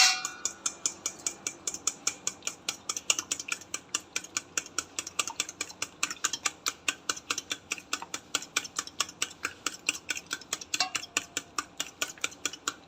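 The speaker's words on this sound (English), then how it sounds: "now we are going to beat the eggs" Eggs beaten with a utensil against a bowl make a fast, steady run of close clicking taps, each stroke sharp and even, continuing without a break and with no talking.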